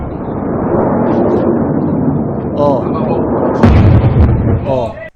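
A heavy Iranian missile explosion booms and rumbles, followed by a second blast, loud and dramatic, with chaotic noise throughout.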